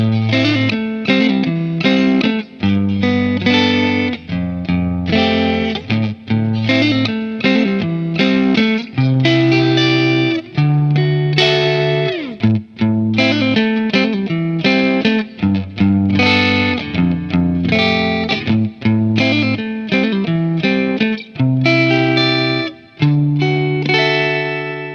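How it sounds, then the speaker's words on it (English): An electric guitar fitted with Seymour Duncan vintage single-coil pickups plays chord-driven riffs through a distorted, effects-laden tone. It is loud and rhythmic, with regular stops between phrases, and no voices cut in. "we're gonna stick with the Seymour Duncan vintage single coils up against our Strat"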